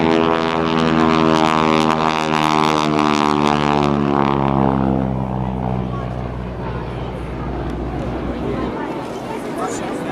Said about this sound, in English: there you have a beautiful photo pass of the SNJ, the Texan